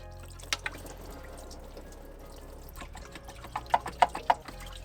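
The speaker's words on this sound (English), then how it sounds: "make sure you have your catch can ready. Catch all the coolant." Engine coolant from a Lexus LS400 drains into a catch can, a low trickle with a few soft drips that grow louder toward the end, heard close with no talking.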